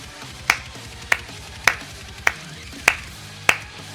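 Six sharp hand claps ring out at an even, slow pace, each a crisp, close and prominent snap standing alone above a quiet background.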